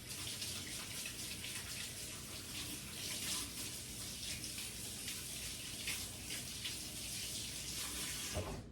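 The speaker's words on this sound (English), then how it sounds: "I'm going to wash my hands real quick." A tap runs steadily into a sink as hands are washed, a close, continuous gush of water with slight splashing changes throughout and no talking.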